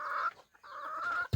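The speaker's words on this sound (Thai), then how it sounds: "230 บาทนี่ไก่แม่ตัวนี้นะ" A hen for sale clucks close by in two drawn-out calls with a short gap between them, then a brief low thump. No one speaks.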